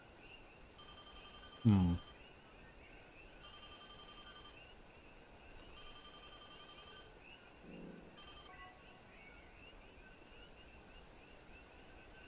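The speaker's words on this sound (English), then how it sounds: "The phone is ringing?" Telephone ringing in the video game Deadly Premonition: four short electronic ring bursts spaced a couple of seconds apart, fairly clear over a low background, with a brief murmur from a person between them.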